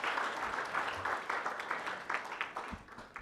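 Applause from a crowd, a steady patter of many hands clapping, moderately distant and fairly soft.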